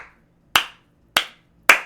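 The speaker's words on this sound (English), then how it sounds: "Golf clap, come on." A slow golf clap: three crisp, separate hand claps about half a second apart, close and clear against near silence, with no talking.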